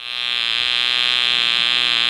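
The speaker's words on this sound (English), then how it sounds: "that's the motor sound effect" A motor sound effect from a handheld sound-effects gizmo: a loud, steady, buzzing electric whine like a shaver, holding constant throughout with no voices.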